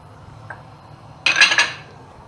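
A spoon stirs sugar into milk in a pan, giving a short burst of clinking and scraping against metal after a single faint tap, close and alone.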